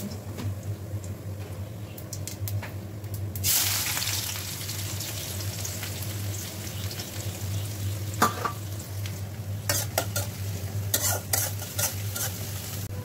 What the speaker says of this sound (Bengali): কড়াইয়ে তেল দিয়ে দিয়েছি। এখন আমি আস্ত জিরে দিয়ে দিব আর পেঁয়াজ কুচি দিয়ে দিব।